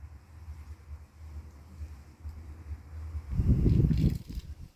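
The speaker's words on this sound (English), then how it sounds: "Oh, it's gotten a bit windy again now" Wind blows outdoors in low, gusty rumbling buffets against the microphone, swelling to a stronger burst near the end, with no talk.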